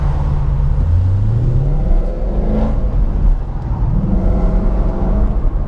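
A 2019 Mustang GT with a Corsa Xtreme cat-back exhaust cruises gently, its engine a low, steady rumble with mild pitch swells, quiet and continuous under road noise.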